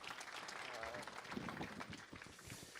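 Welcoming applause from guests at the opening ceremony of a traditional hanok hotel, dense clapping throughout at a distance, with speech and crowd murmur underneath.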